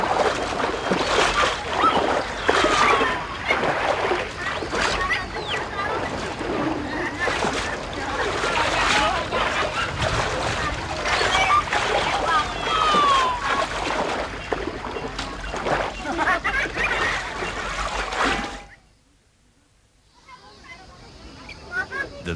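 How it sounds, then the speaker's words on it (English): Women splash river water while bathing a Yanomami baby in a cleansing ritual, with steady sloshing and splashes throughout and voices talking over it until the sound stops abruptly near the end. "the women meet at the river to perform a ritual bath intended to cleanse the baby of her impurities"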